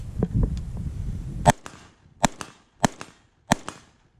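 Suppressed shots from a BCM 11.5-inch SBR rifle ring out as about four sharp, loud cracks spaced under a second apart, each followed by a brief decay, after a short stretch of background rumble.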